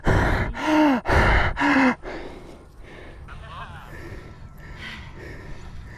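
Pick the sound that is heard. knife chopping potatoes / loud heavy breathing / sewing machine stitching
loud heavy breathing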